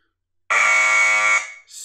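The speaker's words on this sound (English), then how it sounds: "You can turn the alarm on right now. It'll be really loud if I do." The alarm siren of a SENS8 outdoor security camera with LED light blares very loudly and close for about a second, a harsh continuous tone that cuts off and briefly restarts.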